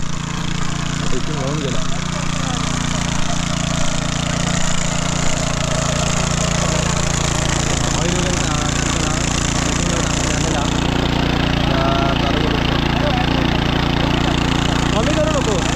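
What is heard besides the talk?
tractor engine running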